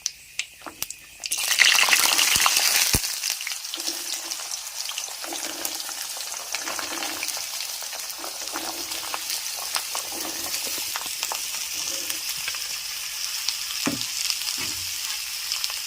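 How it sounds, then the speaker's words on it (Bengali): Potatoes dropped into hot oil with black cumin, dried red chilli and bay leaf burst into a loud sizzle, then settle into a steady close frying hiss with occasional stirring clinks, no voices. "এবারে আলুগুলো ভালো করে কষিয়ে নিতে হবে, তার জন্য আলুটা দিয়ে দিচ্ছি"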